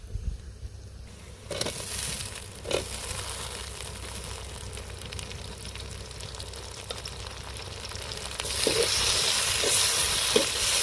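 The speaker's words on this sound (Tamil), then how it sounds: "வெங்காயம் வதங்கிச்சு அடுத்தது வந்து தக்காளியை சேர்த்துக்கலாம்" Tomatoes tipped into sautéed onions sizzle and crackle in a hot pan while cooking a black chicken (Kadaknath) dish, a steady frying hiss with occasional stirring scrapes and a louder burst of sizzling near the end.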